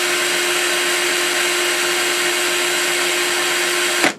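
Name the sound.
electric drill running at high speed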